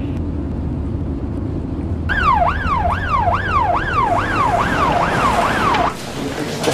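An ambulance siren wails in a fast, repeating up-and-down cycle that starts abruptly and runs for about four seconds over a low background rumble in a police drama scene.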